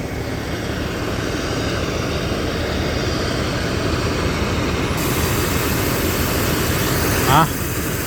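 A freshly rebuilt engine, apparently on a harvesting machine, running at a steady loud drone with constant rumble, a voice talking over it.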